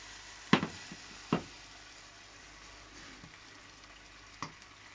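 Stock poured into a hot pan for a lamb pasta bake, with a low background sizzle, two sharp clattering hits near the start and a softer knock later, quiet overall, with no speech.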